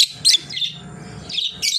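Several small birds chirp in short, bright bursts at the start and end, close and fairly loud over a low background hum, as their grain and water are brought in.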